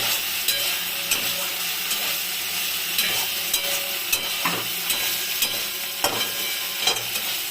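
Prawns frying in hot oil for a prawn, cauliflower and eggplant curry, a steady close sizzle with regular clinks and scrapes of a utensil stirring them in the pan, no voices.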